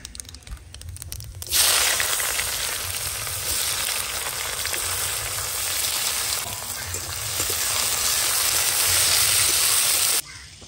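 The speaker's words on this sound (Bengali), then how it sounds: "ফোড়নে দিচ্ছি গোটা জিরে, দিয়ে দেবো পেঁয়াজ কুচি" Whole cumin seeds and chopped onion hit hot oil with a sudden loud sizzle that holds steady for several seconds, then cuts off abruptly.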